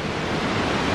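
Nachi Falls, Japan's tallest waterfall, heard near its base as a loud, steady, unbroken roar of falling water with no pauses or voices.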